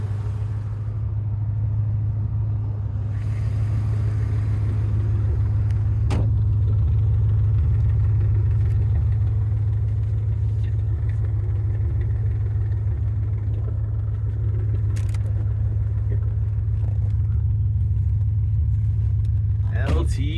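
A 1990 Corvette ZR1 with the LT5 engine and six-speed rumbles steadily on a runway, a deep continuous drone lasting throughout, with voices talking over it.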